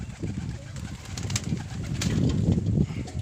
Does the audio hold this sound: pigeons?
yes